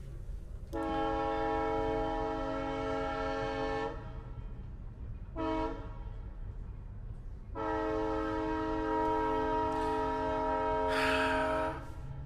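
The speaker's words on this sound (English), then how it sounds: "The train!" A train horn blares in three blasts, a long one, a short toot, then another long one, over a low rumble of rolling rail cars.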